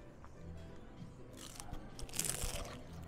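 Crisp crunching of a fried veggie lumpia spring roll being bitten and chewed, a few close crackling bites building toward the end with no talk.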